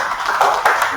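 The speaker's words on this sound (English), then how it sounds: "Clap for me now." An audience at a health research ethics seminar claps for a brief moment, a dense patter of hands with a few sharper slaps standing out, fairly close and loud, with no voices over it.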